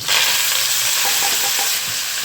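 Onion, tomato and curry leaves hitting hot oil with cumin and mustard seeds, giving a loud, steady sizzle close up with faint stirring scrapes, no voices.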